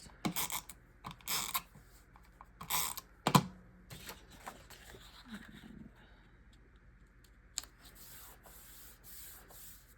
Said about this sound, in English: Some tape runner across.